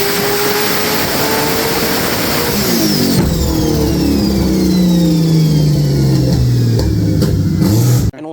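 A 2000-horsepower Nissan S14 engine revs hard, its loud, raspy note climbing and falling in pitch through sweeping revs before cutting off sharply at the end.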